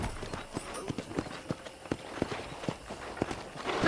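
Horse hooves clip-clop at a steady walking pace in the Red Dead Redemption western game, soft and regular over a faint background, with no talking.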